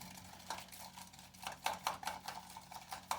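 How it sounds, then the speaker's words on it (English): A spoon scrapes and taps around a bowl of butter and sugar icing in quick, uneven strokes, close and fairly faint, with no voices. "Give that a good little stir to mix it in with the butter and the sugar still."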